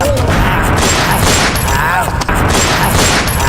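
Gunfire cracks out in a loud, dense burst amid a chaotic, noisy scene, with shots layered over heavy background rumble.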